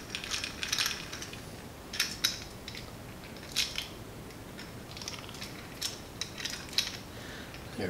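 Small metallic clicks and ratcheting ticks from loosening a socket head cap screw on a Zyltech HEVO 2.0 3D printer's XY axis assembly, a quiet close-up series of irregular light taps and scrapes with no talking.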